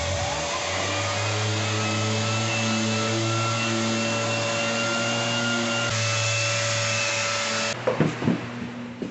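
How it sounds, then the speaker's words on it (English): An orbital sander with a vacuum hooked up runs steadily on a mobile home floor during a renovation, a constant droning whine with motor hum that cuts off near the end into a few knocks. "The orbital sander with the vacuum attached is making for a very clean floor."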